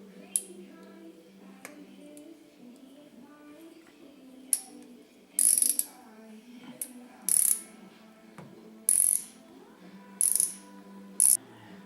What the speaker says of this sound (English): I'm going to go ahead and start removing the spark plugs